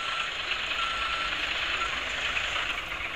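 Truck reversing beeps in Bus Simulator Indonesia, from an NMR truck beside a UD Nissan Diesel dump truck: a steady, continuous high-pitched warning tone over low engine rumble, loud and unbroken throughout.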